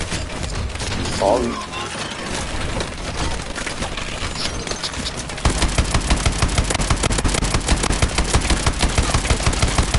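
Chain gun fire from a Goliath suit in Call of Duty: Advanced Warfare, a loud rapid continuous burst in the second half after a stretch of mixed game noise, with a brief spoken word.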